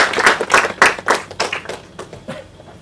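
An audience at a Marathi film trailer launch event claps in a series of loud, evenly spaced bursts that gradually fade out.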